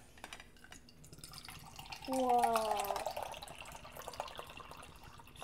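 Banana rice punch drink poured into a cup, a short liquid pour rising for about a second then trailing off, heard close under quiet background and brief reactions from people nearby.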